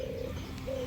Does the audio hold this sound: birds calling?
yes